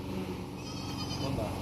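A newborn lamb bleats in a goat and sheep pen, a wavering cry rising over steady barn noise, with people talking nearby.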